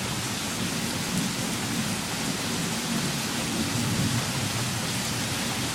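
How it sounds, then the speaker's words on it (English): Rain pours steadily through a severe thunderstorm in Newport News, Virginia, a constant hissing wash with a low rumble of thunder underneath, no voices. "Nice, good storm."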